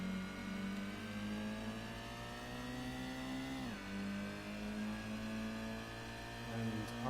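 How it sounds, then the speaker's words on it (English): A Gran Turismo race car engine in arcade mode on Special Stage Route 5 revs high and steady with rising pitch, drops sharply at a gear shift, then climbs again to a strained over-rev near the end. "I overrevved a little there"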